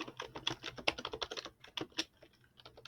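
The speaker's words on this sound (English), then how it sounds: "Here, let me type it." Fingers type quickly on a computer keyboard, a dense run of soft, close clicks that briefly slows before resuming.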